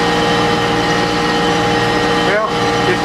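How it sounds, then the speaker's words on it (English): A tractor engine drones steadily while corn and beans are planted in a disked food plot, a loud, constant close-up rumble with a voice over it. "I'm steering the tractor"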